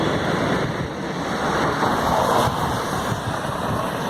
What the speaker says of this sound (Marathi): ही गंड नदी आहे.